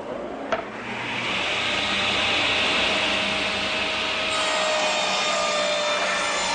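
A table saw rips through a wooden tabletop board, opening with a brief knock before a loud, sustained whining cut that holds steady close by for several seconds.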